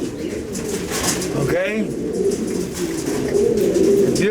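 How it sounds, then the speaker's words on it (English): Pigeons coo steadily at a pigeon pet shop in Florida, a continuous low, throaty warbling that fills the background while a nearby voice speaks briefly. "Beautiful birds, guys."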